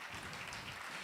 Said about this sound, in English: let's meet them with a resounding applause